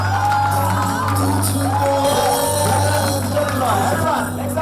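At a wedding reception a crowd cheers and shouts over loud amplified music with a steady bass hum, voices rising and falling throughout.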